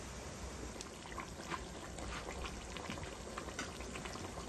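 Potatoes simmer in a meat bhuna, a soft bubbling and faint sizzle that runs steadily under light clinks, quiet and close.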